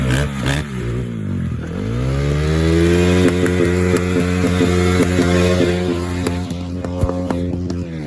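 A dirt bike engine revs hard on a rough hill climb, rising into a sustained high whine with bursts of throttle, clattering and scraping as the bike bounces over rough ground, loud and close.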